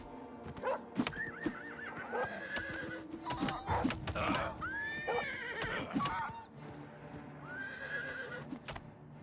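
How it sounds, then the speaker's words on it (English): A horse in a video game whinnies and neighs repeatedly over the clip-clop of hooves, close and fairly loud, with no voices. "Man, Prior Mabrel's horse doesn't fuck around."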